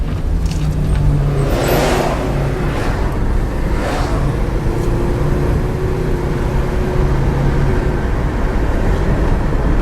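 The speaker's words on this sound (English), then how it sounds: "this is normally where it acts up," A 1997 Subaru Legacy with an automatic transmission pulling away from a dead stop, heard from inside as a steady loud engine and road rumble with a rising tone early on, continuous and close.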